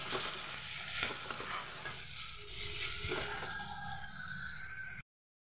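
Onions frying with a little sugar in a pan for a goat mutton curry with potatoes, a steady close sizzle running evenly for about five seconds, with occasional stirring scrapes and no talking.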